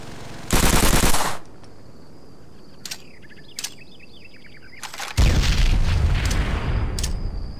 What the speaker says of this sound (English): Toss a frag grenade through it.